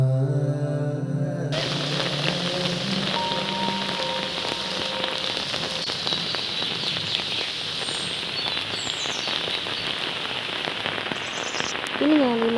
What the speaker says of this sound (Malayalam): ഇത്രയും നല്ലൊരു മഴ കിട്ടിയത്.